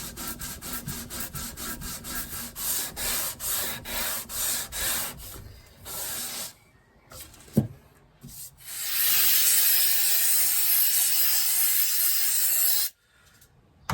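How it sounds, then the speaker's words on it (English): Rhythmic back-and-forth sanding strokes as glue is sanded off a guitar with 320 and 240 grit paper, steady and close. It pauses briefly, then turns into a smoother, continuous rubbing pass. "let's get this glue sanded off and see what it looks like"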